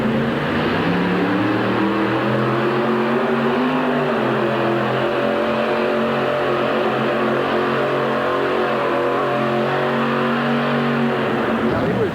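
A supercharged 498-cubic-inch Hemi monster truck engine roars at a 1989 USHRA event in Hartford, a loud, continuous throbbing drone that lasts throughout, under an announcer's commentary.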